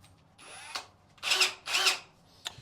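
Power drill boring holes inside a boat compartment on a motorsailer, two sustained whining bursts of drilling with short mechanical clicks before and after, close and fairly loud with no talking.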